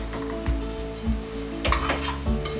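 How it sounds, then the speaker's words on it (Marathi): Malvani taro leaf bhaji with peanuts, corn and jackfruit seeds being stirred in a pot, a rhythmic scraping of the spoon every half second over a steady simmering sizzle, close and without talk. "थोडस ढवळून घेऊया"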